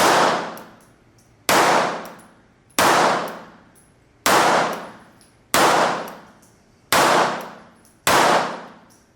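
Seven sharp, loud pistol shots from a Sig Sauer P230 in .380 fired at a shooting range, spaced evenly about every second and a half, each crack ringing off in a decaying echo, with no talking.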